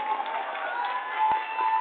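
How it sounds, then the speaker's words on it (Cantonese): Crowd noise at a Chinese New Year lion dance celebration in Panama, a steady continuous swell of cheering and applause from an audience, with one brief thump partway through. "Un aplauso para él, por favor."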